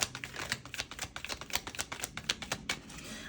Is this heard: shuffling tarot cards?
yes